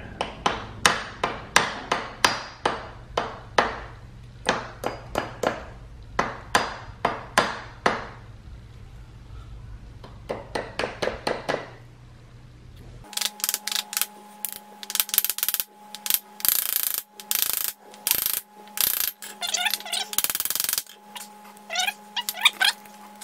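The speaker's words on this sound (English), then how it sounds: "that's what it looks like with 1 pin driven in, and that will hold it in place" Rapid metallic hammer strikes drive a pin to mount an AX15 transmission to a Chevrolet 350 in a Jeep CJ7, coming in fast rhythmic bursts with short pauses, close and loud, over a steady hum from the shop.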